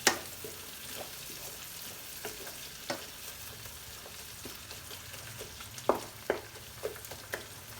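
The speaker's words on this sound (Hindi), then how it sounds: "लहसुन को भूनेंगे प्याज के साथ।" Garlic sizzles in a pan with browned onions while making chicken biryani, a faint steady crackling fry with occasional louder scrapes and stirring knocks, no voices.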